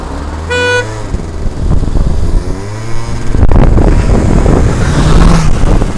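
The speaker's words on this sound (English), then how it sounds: "I'll go when the cars have gone." Cars pass along a road nearby: a short horn toot rings out first, then a rushing swell of traffic noise and wind buffeting the microphone.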